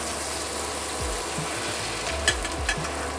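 Lamb cutlets sizzling in a tilted pan of melted butter with rosemary make a steady, close frying hiss, broken by a few soft knocks and a couple of brief sharp clinks near the end.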